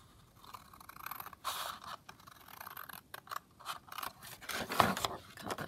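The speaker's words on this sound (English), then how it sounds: "So I'm just going to cut this round like that." Scissors cut round a piece of paper, making close, quiet snips and scraping rasps in an irregular run of strokes.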